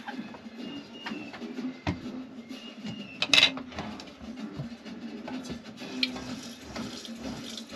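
Water poured into a pot while cooking Thanksgiving dinner with butter in a van in the desert: a soft, steady trickle with light clinks of cookware and faint birdsong in the background.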